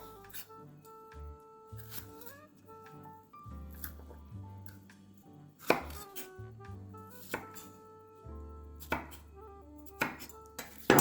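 A knife chops red peppers on a board in irregular bursts of crisp cuts, set against steady background music.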